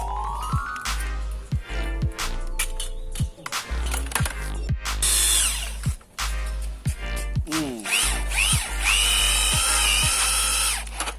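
A power drill whirs loudly in repeated bursts, revving up and cutting off, with clicks and knocks between runs and close-up mechanical whine.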